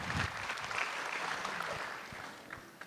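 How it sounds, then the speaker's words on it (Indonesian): Applause from an audience at a stand-up comedy competition grand final, a steady wash of clapping that holds for a few seconds and slowly thins out toward the end. "Tepuk tangan sekali lagi dong buat Mukmin."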